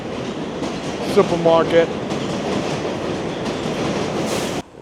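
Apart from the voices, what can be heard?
New York subway train passing in Woodside, Queens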